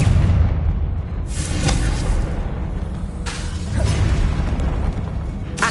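Two loud bursts of the Confringo blasting curse exploding in the Hogwarts Legacy video game, each with a sharp crack and rumbling tail over a low game-combat bed.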